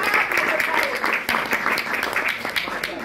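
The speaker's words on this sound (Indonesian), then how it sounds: "tepuk tangan dulu" Audience applause at an evening drum-and-bass clinic event, a dense steady wash of clapping filling the room, loud and continuous with crowd voices mixed in.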